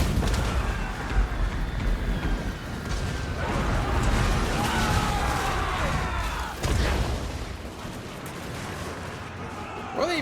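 Artillery barrages in the Total War: Warhammer 2 strategy game, a dense, sustained clatter of booms and crashing impacts rolling on continuously at steady loudness with a sharper hit partway through, no talk over it.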